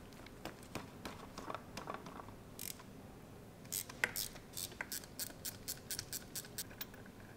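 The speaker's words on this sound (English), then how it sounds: "pull the bolts out of the starter" Bolts come out of the starter on a Ram ProMaster City, a faint series of metallic ratchet clicks in quick bursts, growing into a rapid rhythmic clicking toward the end, with no talk.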